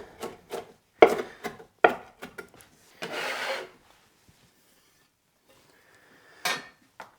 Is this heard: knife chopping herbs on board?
yes